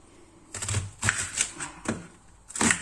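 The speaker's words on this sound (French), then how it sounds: "une fois qu'on a épluché nos oignons, on va les couper en lamelles." Knife chopping peeled onions into strips on a cutting board, a handful of sharp, close knocks at an irregular pace with quiet gaps between, no voices.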